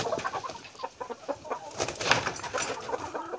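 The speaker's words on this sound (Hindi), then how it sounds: "ये हमारी मुर्गी हैं।" Desi poultry hens on a farm cluck in quick, overlapping bursts, fairly close and alone without talk.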